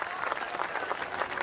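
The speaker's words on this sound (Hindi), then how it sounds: "तालियां कम है आपकी।" Audience applause at a Hindi comedy show, a steady wash of many hands clapping at moderate distance, continuous and even for a brief stretch without speech over it.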